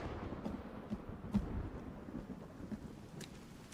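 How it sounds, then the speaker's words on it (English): Steady rain falls in the video game Sons Of The Forest, a soft dense patter with low rumbling underneath and a few louder drops, no talk. "it's raining"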